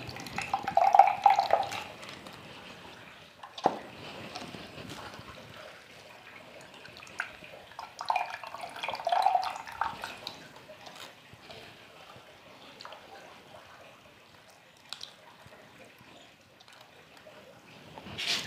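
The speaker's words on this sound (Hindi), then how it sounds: "इसको हम पानी को फिर एक बार फिर फेंक देते हैं" Water tipped out of a container of washed cocopeat, irregular close splashing and trickling pours with clinks of the vessel, coming in several bursts over a quiet background.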